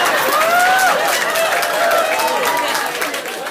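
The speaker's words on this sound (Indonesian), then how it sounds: "Nggak usah tepuk tangan." Crowd at an Islamic religious sermon clapping and murmuring, moderate applause mixed with voices and talk over the top.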